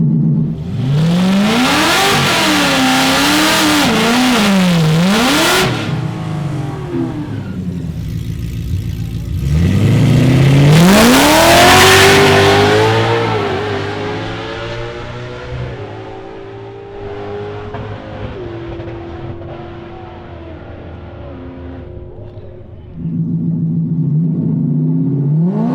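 Drag race cars in True Street competition roar off the line in loud, repeated revving bursts, engine pitch sweeping up through gears with brief lulls between runs.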